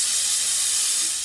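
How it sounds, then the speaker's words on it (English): A steam cleaner fitted with a steam/vacuum hose attachment for extracting floor mats hisses steadily with its steam on, a continuous close broadband rush that holds level throughout, with no talking. "we're ready to go with steam. The steam is on."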